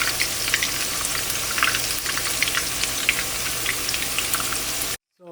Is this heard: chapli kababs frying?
yes